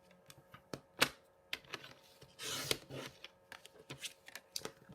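Patterned paper for a fold card being trimmed on a paper cutter: a string of light clicks, snips and shuffles, quiet and close, with one brief rasping slide of the blade.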